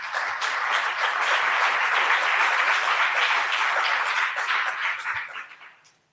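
An audience at a political forum breaks into a steady round of applause for the candidates, full and even for about five seconds before fading out quickly.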